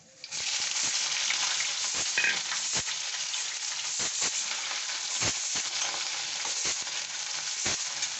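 Onions sizzle steadily in a hot pan for chicken bhuna khichuri, a dense continuous frying hiss with occasional stirring scrapes and clicks, close and loud throughout.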